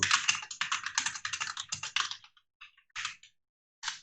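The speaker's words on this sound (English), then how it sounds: "we can type in some notes here" Rapid typing on a computer keyboard, a close, dense run of clicking keystrokes that slows into a few scattered taps and pauses, ending with one short final burst.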